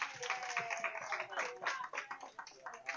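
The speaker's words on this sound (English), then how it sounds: "can we give them some love and some round of applause, please?" Parents and attendees at a hybrid parenting workshop give a round of applause for parent volunteers, a quiet, somewhat distant smattering of claps with uneven rhythm over a few seconds.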